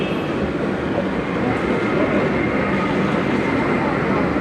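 Bangkok underground metro train riding toward Sukhumvit station, a steady loud rumbling roar of the carriage in motion with constant wheel and track noise filling the whole stretch without pause.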